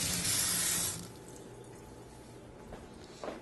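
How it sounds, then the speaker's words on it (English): Warm tap water runs onto an orange as it is washed under a kitchen faucet, a steady loud rush for about the first second before it cuts off and leaves faint room noise. "It's important to wash the orange under warm water,"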